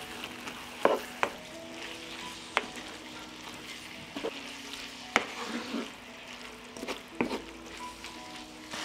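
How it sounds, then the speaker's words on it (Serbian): Meat frying in a pan with black pepper, organic dried seasoning and sweet ground red paprika, stirred with a utensil that clinks and scrapes several times against the pan over a steady sizzle. "I sad ću sve ovo promešati."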